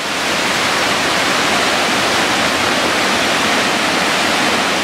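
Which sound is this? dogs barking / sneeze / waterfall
waterfall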